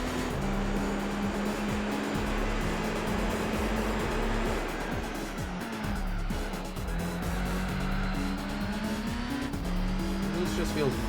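A race car driven in the video game Gran Turismo 4, its engine holding a steady droning note with shifting pitch and occasional tire squeal, continuous throughout with a voice talking faintly over it.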